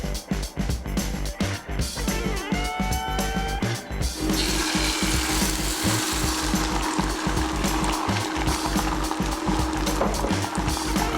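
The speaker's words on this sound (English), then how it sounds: "Shake a pan and make a seed like almost making a crepe." A pan is shaken on a stove over low heat while an egg crepe cooks, with rhythmic scraping thumps at first, then a steady, loud sizzle.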